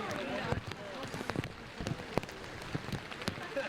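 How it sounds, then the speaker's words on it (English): Heavy rain pours on an outdoor field during a men's college soccer national championship match, a steady hiss of falling water dotted with sharp drop hits, with a commentator's voice faintly underneath. "rain pouring down here still"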